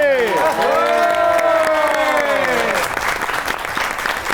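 A studio audience on a Pakistani comedy talk show welcomes guests Sheeba Hasan and Hamid Rana with loud, sustained applause, an early whooping, tonal swell riding over the clapping before it settles into steady hand claps.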